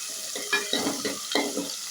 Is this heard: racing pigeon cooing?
no